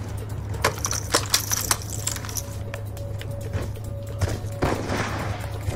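Gunfire from a Black Ops 2 team deathmatch, with several sharp shots and short bursts in the first two seconds, then a few scattered reports over a steady low game hum.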